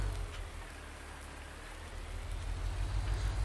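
Steady rain in Farming Simulator 19 during a baling session on a farm field, a continuous soft hiss of falling drops over a low rumble, moderately loud throughout with no talking.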